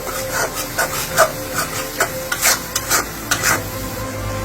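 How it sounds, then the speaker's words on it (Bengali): Pumpkin stir-fried in a pan with salt, turmeric and chili powder for a Bengali sweet pumpkin curry: a steady hiss of frying under a rhythm of repeated spatula scrapes and knocks, close and fairly loud, with no talking. "এটাকে খুব ভালো করে কষাতে হবে।"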